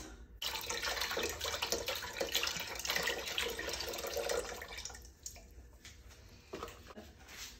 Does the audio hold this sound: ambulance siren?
no